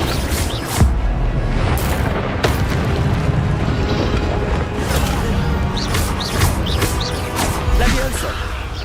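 An Incendio fire spell cast in a Harry Potter video game gives a burst of whooshing, crackling flame with sharp impacts amid a dense, busy game soundscape of booms and effects.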